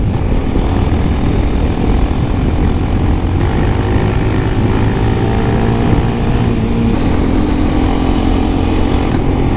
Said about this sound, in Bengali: যার জন্য বাইকটা এখনও অনেক বেশি স্মুথ লাগে